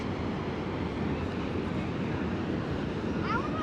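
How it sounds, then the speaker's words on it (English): Subway train rumbling across the Manhattan Bridge in New York City on a hot summer day, a steady low roar heard from nearby with no pauses, and a faint chirp near the end. "Hear the rumble of the train here on the Manhattan Bridge."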